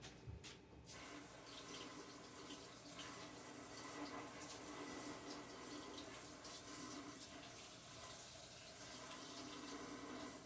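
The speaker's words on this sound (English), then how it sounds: "Wash this onion." An onion rinsed under a running kitchen tap, a steady close stream of water splashing for several seconds after a brief handling sound at the start.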